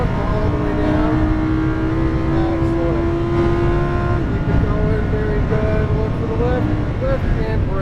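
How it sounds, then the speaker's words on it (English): A Lamborghini accelerates out of a corner on a race track, its engine note rising steadily as it pulls hard, loud and close, with a voice talking over the engine roar. "we'll track out wide left, and accelerate"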